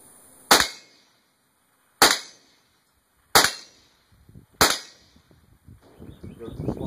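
A Mossberg 702 Plinkster rifle fires four sharp, evenly spaced shots at targets using iron sights, each a crisp crack with quick decay, followed by faint rustling and quiet voices.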